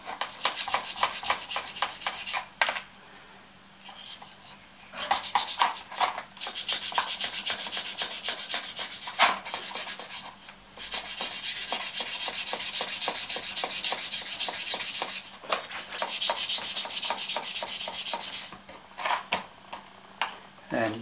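A Scotch-Brite pad scrubs a greasy metal toolholder in repeated bursts of dry rasping rubs, close and fairly loud, broken by short pauses.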